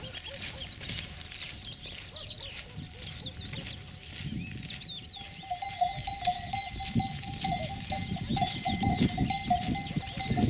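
A herd of sheep, goats among them, on a rural stretch of the Vía de la Plata between Valdesalor and Grimaldo in Spain, with bleats near and far over steady outdoor noise and clanking bells, growing busier toward the end.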